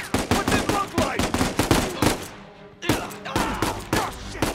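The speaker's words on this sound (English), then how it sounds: "Guns are blazing." Loud, close rapid-fire gunfire in Uncharted: Legacy of Thieves rattles out in repeated bursts, breaking off briefly before resuming.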